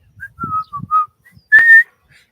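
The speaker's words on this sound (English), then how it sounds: "can you whistle? Yes." A person whistles a few short, clear notes that rise and fall, then one longer, brighter note. Faint low thumps sit underneath.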